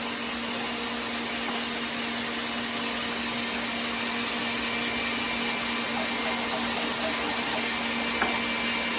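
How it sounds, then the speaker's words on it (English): An electric mixer whipping egg whites to peaks runs as a steady, loud motor whine with a constant hum and no break, close by and uninterrupted by talk. "We have a whole lot of mixing going on. Usually takes about a minute and 15 seconds or so for those egg whites to form a peak."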